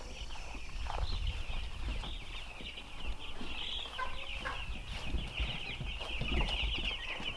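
Meat chickens cluck and murmur steadily inside a barn, a busy flock heard close and continuous over a low rumbling background.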